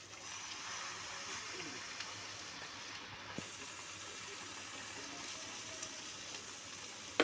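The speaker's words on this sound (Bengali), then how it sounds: "এইবার আমি সয়াবিনটা ঢেলে দিচ্ছি" Soybean chunks poured into a hot pan of onion, ginger paste, garlic paste and chopped green chilli, giving a steady, even sizzle of frying that holds throughout, with no one speaking.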